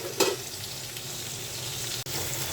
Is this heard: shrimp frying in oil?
yes